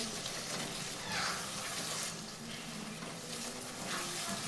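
Masala and tomato fry in a pan for chickpea curry, a soft, steady sizzle with faint stirring swells, quiet and close, with no one talking.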